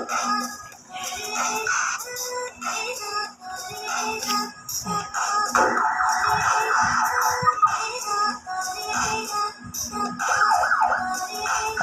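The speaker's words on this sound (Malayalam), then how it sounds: "ഇങ്ങോട്ട് നമ്മുടെ ഈ പോലീസ് വണ്ടി എത്തിക്കണം." A police vehicle siren in a video game wails in rising and falling electronic tones, loud and persistent among other synthetic game sounds and beeps.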